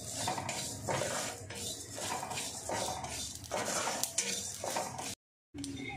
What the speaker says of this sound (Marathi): तीळ धने आणि खसखस सुक्क भाजून घेणार आहे